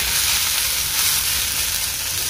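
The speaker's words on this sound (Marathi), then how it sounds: "मसाल्यात थोडी कोथिंबीर टाकली आहे आणि परत व्यवस्थित परतून घेतलं आहे." Tomato masala with coriander sizzles and fries in a pan while being sautéed for dum aloo, a steady close hissing crackle that stays constant throughout the short stretch, with no voices.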